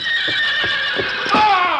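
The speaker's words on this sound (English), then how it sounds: "For a moment, in spite of the bucking, Carlos managed to stay in the saddle." A horse whinnies loudly in a long, shrill, quavering neigh with thudding hoofbeats underneath, a bucking-horse sound effect for a Lone Ranger radio drama, close and prominent for nearly two seconds.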